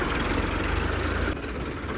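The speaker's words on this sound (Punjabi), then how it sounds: "ਚੱਲਿਆ ਜੀ ਟਰੈਕਟਰ" A Swaraj 855 tractor engine idles steadily with a low, chugging rumble, dropping slightly in intensity near the end; no voices.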